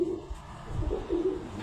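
Racing pigeons kept by a Karachi fancier coo softly in short, low, throaty phrases, two or three soft calls close by and fairly quiet, with no talking over them.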